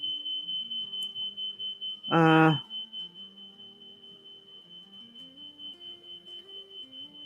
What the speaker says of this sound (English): sure you can hear the fire alarm